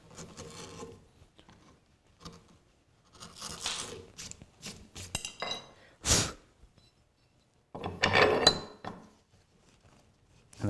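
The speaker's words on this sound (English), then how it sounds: "So I'm just going to use my gouge here again" Rough scraping and rasping strokes of a gouge cutting wood while building a Moxon vise come in irregular bursts, close by, with pauses between cuts and no talk.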